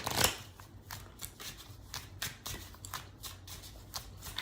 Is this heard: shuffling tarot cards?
yes